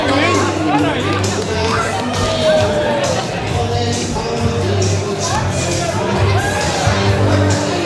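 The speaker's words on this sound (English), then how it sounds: "The crowd absolutely loving him here in Bacchus Marsh." Dense wrestling-event crowd noise in Bacchus Marsh, steady loud cheering, shouts and whoops filling the whole span without letup, with a commentator talking over it.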